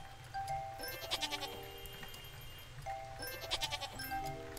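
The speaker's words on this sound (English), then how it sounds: "Those are sheep." Sheep bleat in the farming video game Harvest Island, two repeated bouts of nasal, wavering calls over a looping melodic music track.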